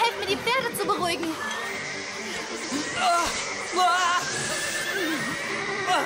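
Several cartoon horses whinny and neigh in alarm, the loud shrill calls overlapping in quick succession over a busy, chaotic background.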